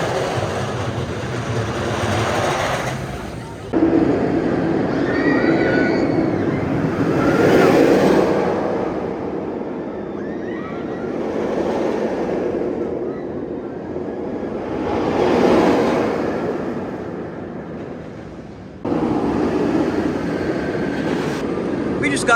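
A wooden roller coaster train, El Toro at Six Flags Great Adventure, roars past in a few rumbling, swelling waves that rise and fade as it runs the track, with a steady outdoor wash and some voices underneath.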